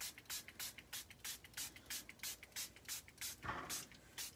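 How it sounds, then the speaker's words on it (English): Rapid bursts of a hand spray bottle misting lagoon-coloured ink around the edges of a messy craft background, about a dozen quick even hisses in steady rhythm, close and fairly quiet. "We'll spray a little bit of that around the outside."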